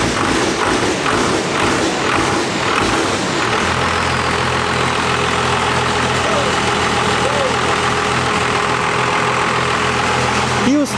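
A heavily modified 12-valve Cummins diesel engine cranks with rhythmic thumps, then catches and settles into a loud, deep, steady idle with a whining tone above it, voices talking over the engine inside a barn.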